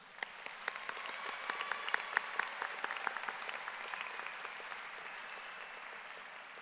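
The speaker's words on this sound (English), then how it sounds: "Let's give a round of applause to all of our students." A crowd at a high school graduation ceremony applauds the graduating students, with steady, distant clapping and sharp individual claps standing out, fairly faint and continuous.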